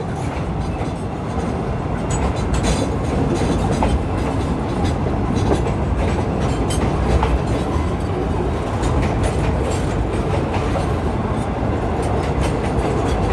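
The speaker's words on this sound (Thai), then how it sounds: "นี่ก็เป็นรถถังเปล่านะครับหลังจากที่ไปส่ง น้ำมันดิบที่คลังน้ำมันบางจาก" A long freight train of empty tank wagons, returning after delivering crude oil, rumbles steadily past near Bang Sue locomotive depot, with loud continuous rolling and rhythmic wheel clatter throughout.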